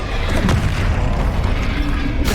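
A Confringo fire spell from Hogwarts Legacy detonates in a deep, loud explosive boom with a crackling burst, followed by a second sharp pop near the end.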